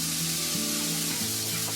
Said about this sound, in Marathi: आता आपले मूग शिजलेले आहेत ना तर कढईमध्ये टाकले. आता हे चांगले फ्राय करून घ्यायचे.